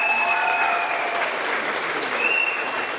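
Loud, sustained applause from an audience at a Melton Truck Lines monthly company celebration honoring staff, clapping steadily throughout with some crowd noise mixed in.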